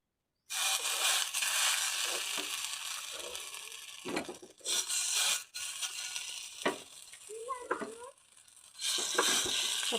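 Spinach and rice-flour fritters fry in hot oil in a pan, a close, crackling sizzle that drops and returns in stretches, broken by a few sharp clinks and scrapes of a utensil, with no talking.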